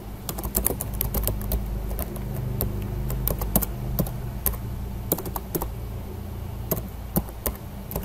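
Close, steady keyboard typing with irregular bursts of key clicks running the whole time over a low background hum, no talking.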